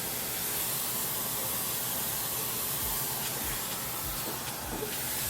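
A closed hair steamer hisses continuously at close range, a loud, steady broadband rush with faint clicks underneath, with no talking.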